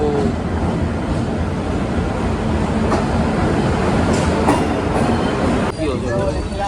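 Saurashtra Express train rolling through Mumbai during the monsoon: a loud, continuous rumble and rattle of wheels and carriages with periodic clacks, filling the whole passage.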